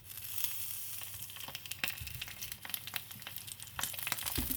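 Sausage frying in oil in a pan over medium heat, a steady crackling sizzle with scattered sharp pops and spits throughout, fairly close and moderately quiet, with no voices.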